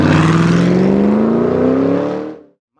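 A 2006 Ford Mustang GT revs loudly and close by, its engine note climbing steadily for about two seconds before cutting off abruptly, with no voices over it.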